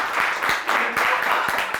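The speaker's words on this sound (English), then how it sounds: "This deserves a clap" An audience at a live drag show in Bernica Park claps in a quick, dense burst of applause, loud and close, with some voices mixed in.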